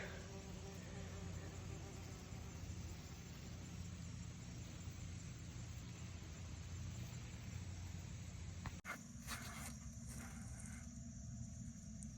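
Southern yellowjackets and other wasps buzzing around nests on a house, a continuous close droning hum that runs unbroken and then shifts abruptly near the end, with no talking.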